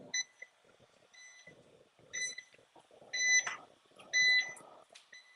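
An appliance gives a few short electronic beeps at the halfway point of its cycle, spaced irregularly, over quiet background clatter in a room.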